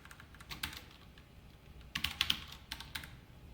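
Fingers tap out code on a computer keyboard in quiet, close, irregular bursts of clicks with short pauses, and no one speaks.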